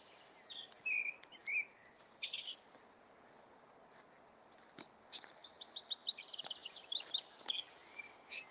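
Birds call and chirp at intervals in a quiet outdoor setting, short bright whistles and twitters, some near and some farther off, with no talking.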